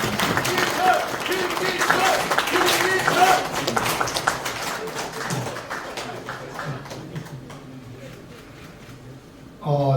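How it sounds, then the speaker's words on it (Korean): Audience applause at a council member's 2026 legislative report meeting in a Nonghyup hall in Jeongseon, steady crowd clapping that stays loud for several seconds, then thins and fades out toward the end. "우리 나오실 때 큰 박수 부탁드립니다"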